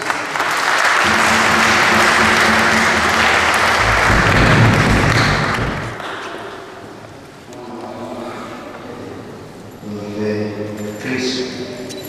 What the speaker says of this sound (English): May we clap for her, please?